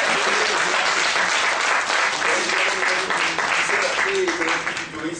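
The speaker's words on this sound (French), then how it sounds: "vous pouvez les applaudir d'ailleurs." Applause and crowd noise at a Christmas market in Mulhouse, where a dense, loud wash of clapping runs steadily throughout with chatter and voices mixed in.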